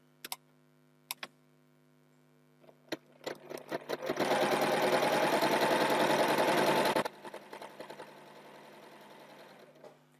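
A sewing machine fitted with a 1/4 inch foot stitches quilt block pieces, starting with a few short bursts and then running in a steady, loud, continuous whir for about three seconds before stopping, followed by faint ticks and handling.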